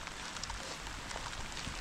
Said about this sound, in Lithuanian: lietus įsismarkavo